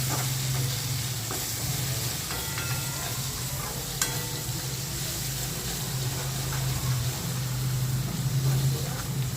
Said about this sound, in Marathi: त्यानंतर एक बारीक चिरलेला कांदा ॲड करते हे छान तांबूस रंग येऊपर्यंत परतून घ्यायचं